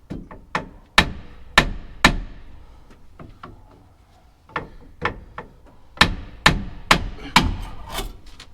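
Sharp metallic taps from a brass hammer striking a metal part on a Cummins-swapped dually 4x4 truck, coming in quick clusters of three or four with pauses between, close and fairly loud.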